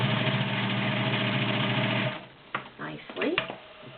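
An Electro-Grand cam sewing machine stitches through a couple of medium-weight leather layers with a loud, steady mechanical whir for about two seconds, then stops as someone talks.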